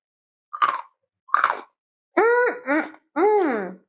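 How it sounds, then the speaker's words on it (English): Two crisp crunches of a barbecue-flavored Balinese snack being bitten, then a few drawn-out, appreciative humming murmurs from the person eating. "It's very crunchy. Let's hear it."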